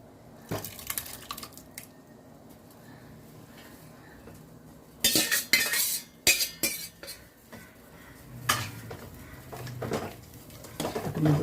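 Cooked chana dal being stirred into a vegetable kootu curry in a metal pan, with intermittent scraping and clinking of a spoon against the pan in uneven bursts, fairly close, with no talking.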